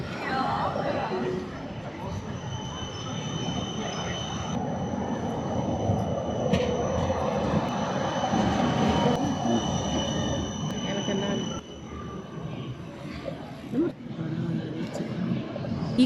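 A city tram rolls past in the Zytglogge clock tower area, a steady muffled rumble filling the whole stretch, with voices and street noise around it.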